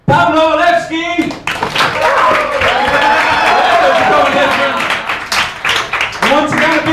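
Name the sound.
audience applause for improvisers at a comedy show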